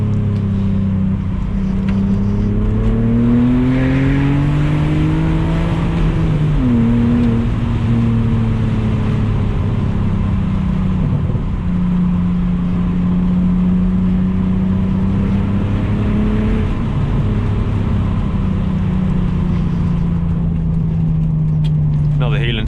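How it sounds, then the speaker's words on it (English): BMW Z4 engine blipping and revving through a heel-and-toe downshift into second gear, the engine note dropping and rising again under steady road and wind noise, with someone talking throughout. "Heel and toe into second."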